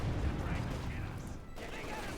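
Bursts of .50 cal machine gun fire in a Company of Heroes 2 battle, a dense, steady rattle running through the clip over a rumbling low battlefield din.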